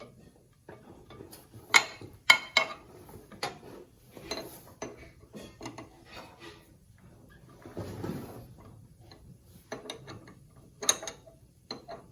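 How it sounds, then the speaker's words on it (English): Wrench tightening the blade bolts on a Dewalt DW733 benchtop planer, giving sparse metallic clicks and ratcheting ticks spaced irregularly across a quiet room, with faint handling clatter between them. "Now we're going to tighten them with this wrench."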